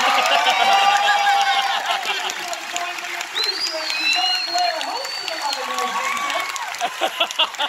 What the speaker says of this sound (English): How about you give them all a big round of applause?